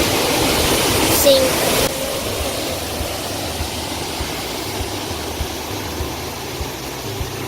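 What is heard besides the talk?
waterfall in White Oak Canyon, Shenandoah National Park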